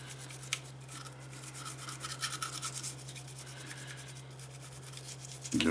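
Close, soft rasping strokes of a brush scrubbing carbon off a Sig M17 pistol part, steady back-and-forth rubbing with no voices.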